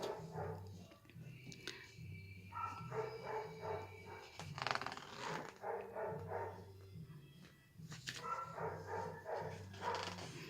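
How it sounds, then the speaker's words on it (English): A dog barks repeatedly indoors, in bursts of sharp, fairly loud barks with short pauses, mixed with some whimpering. "The dog is barking."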